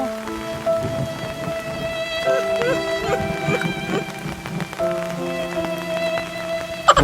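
Steady rain pours during Typhoon Ambo in the Philippines, a continuous hiss of drops on surfaces with soft background music running throughout and a sharp knock right at the end.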